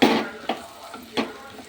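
A spoon stirs chili powder through chicken curry in a pan, giving three or four short scraping, sizzling strokes with a louder splash-like burst at the start, close and moderately quiet.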